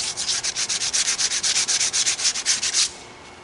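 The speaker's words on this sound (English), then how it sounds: "sand the edge of my gasket" A gasket edge on a 1972 International Harvester Cub tractor is sanded with 180 grit sandpaper: about twenty quick, rhythmic rasping strokes, close and loud, then a sudden stop.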